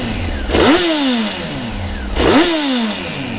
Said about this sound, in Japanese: 一応954のマフラーの音だけ出しておきます